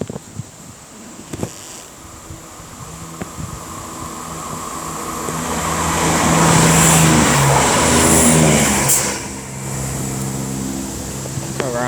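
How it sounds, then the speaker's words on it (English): A CrossCountry Class 170 diesel multiple unit approaching and passing, its engine drone swelling steadily to a loud, close peak with a brief high squeal, then easing away, no talk over it. "now approaching is going to be 170, 114 and 113 for cross country, working a service from Cardiff Central to Nottingham"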